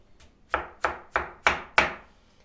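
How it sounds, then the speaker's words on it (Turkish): A knife strikes a cutting board five times in an even rhythm, chopping mushrooms, each chop crisp and close, with brief silence between. "Bütün mantarlarımı bir doğrayayım."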